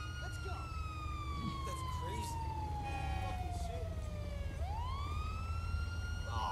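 Ambulance and fire engine sirens wail in the GTA 5 video game, a long descending tone sweeping down then rising again, layered with other siren tones over steady traffic rumble.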